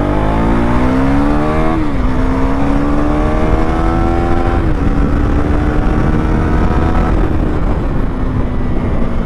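A Husqvarna Svartpilen 401 motorcycle accelerates hard while riding, its loud, close engine note climbing in pitch through two gear shifts over a continuous rush of wind.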